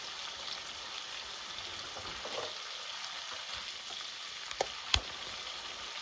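Lamb fries with fresh spices in a pan for a Bangladeshi lamb aloo curry, a soft, steady sizzle with a few sharp clicks near the end and no talking.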